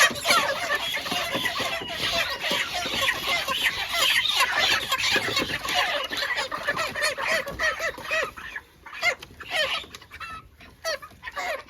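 Chickens on a farm cluck and squawk steadily while being handed over for weighing, a dense, close flurry of calls that thins out near the end.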